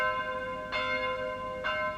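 Church bells of St. Jacob's Church in Herxheim am Berg, a German wine village, ring the midday call, with two resonant strikes about a second apart over a lingering, humming tone.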